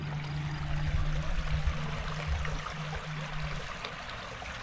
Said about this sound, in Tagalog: May tubig diri lang oh.